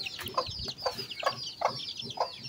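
Chickens cluck in a village yard in a steady series of short, close calls about every half second, with faint rural background noise and no talking.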